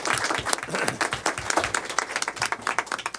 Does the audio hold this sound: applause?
yes